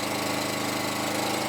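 A Kawasaki lawn mower engine idling steadily and close by, a smooth, even drone with a fine regular pulse and no breaks.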